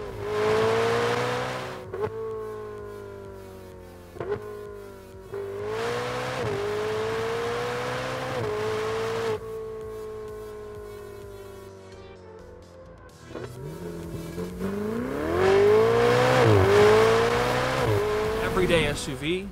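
A Ferrari 488 fitted with a Ryft exhaust system revs hard in several separate bursts, its pitch climbing and falling sharply between short pauses, loud and close.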